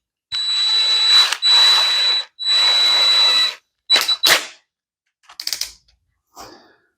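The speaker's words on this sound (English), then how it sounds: "start the fun process of drilling out the holes" A power drill drilling holes in ABS plastic whirs in three sustained bursts, then a couple of short revving pulses and faint sputters, loud and close with no talking.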